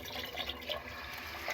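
Water poured into a pan of paneer curry: a continuous close splashing and gurgling stream that fills the whole moment, with no talking.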